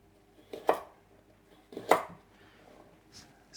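A knife cuts vegetable sticks for crudités on a board, making two distinct, close chopping thuds about a second apart in an otherwise quiet kitchen.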